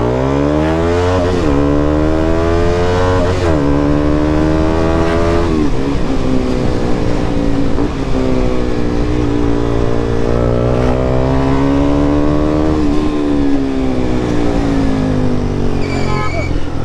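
A modified KTM Duke 200 motorcycle with an aftermarket exhaust rides on a road, its loud engine note rising and falling through repeated revs and gear changes, with a rider talking over it.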